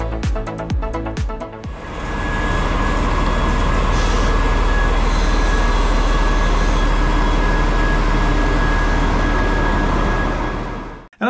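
Old locomotives hauling an Intercity passenger train rumble past near Lübeck and Rostock, a loud sustained roar of wheels and cars after a few sharp clanks at the start, then cutting off abruptly.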